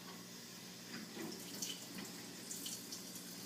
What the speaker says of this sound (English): Once that is tight, go ahead and turn the water back on.